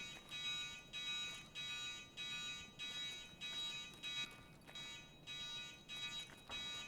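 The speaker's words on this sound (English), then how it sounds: "That's the everything's okay alarm." A repeating alarm tone in Escape from Tarkov sounds in steady, evenly spaced electronic bursts, continuous and moderately loud over a low rumble.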